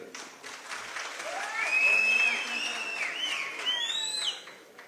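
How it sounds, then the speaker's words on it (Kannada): An audience at a political speech event breaks into a burst of clapping that swells and then fades over a few seconds, with faint crowd murmur and some electronic whistle beneath it. "ಏನು ಅವ್ರಿಗೆ ಮಾತ್ರ ಚಪ್ಪಾಳೆ ತಡ್ತೀರಿ"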